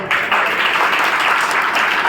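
Applause from the audience at a community gathering and pledge assembly in Konch, a dense, steady wash of many hands clapping that holds at full strength through the whole stretch.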